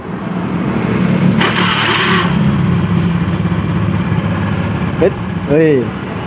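A Honda Beat FI scooter engine runs at a loud, steady idle close by. A brief burst of noise breaks in early, then a couple of short rising whines and a voice are heard near the end.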